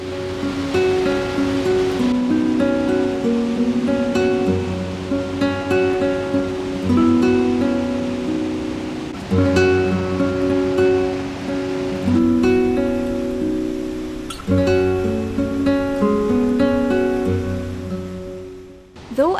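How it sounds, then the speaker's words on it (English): Athabasca Falls in the Canadian Rockies, a forceful waterfall, gives a loud, continuous roar of rushing water with no voices, mixed under a sustained layered musical drone throughout. "this waterfall may not be the tallest, but it's one of the most forceful in the Canadian Rockies"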